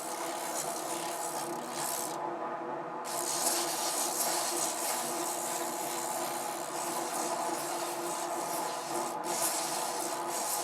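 A barrel sander grinds steadily against a wooden spoon being shaped, a close, continuous abrasive rush with a short break as the piece is lifted away and pressed back.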